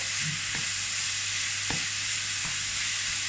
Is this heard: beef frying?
yes